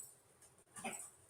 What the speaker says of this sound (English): He's probably barking at the door.